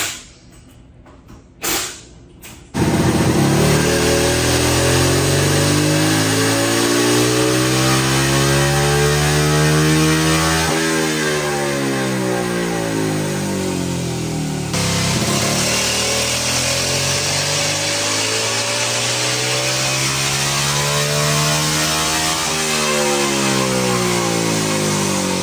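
An engine revs hard and holds a loud, sustained howl during a horsepower and torque test, its pitch rising and falling in long sweeps. A few brief knocks come first, with no talking.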